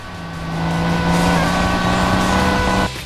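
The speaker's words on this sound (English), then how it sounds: "2 speeding vehicles are disrupting traffic and causing more accidents." Speeding cars race along the Autobahn in the video game Crash Time IV, a loud, steady engine drone with a rising whine that holds for a few seconds, then cuts off abruptly.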